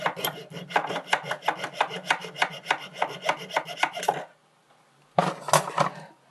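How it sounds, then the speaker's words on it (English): A flat metal file rasps back and forth across silver while a jump ring is held in parallel pliers, giving about twenty quick, even strokes. A short pause follows, then a burst of a few more strokes, all close and clear. "I get my file, the flat side of my file. I'm just going to rub along"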